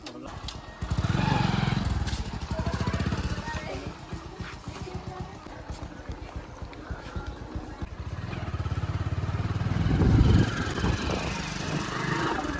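A motorcycle engine drones steadily at close range, revving up around the start and again near the end, with voices faintly mixed into the engine noise.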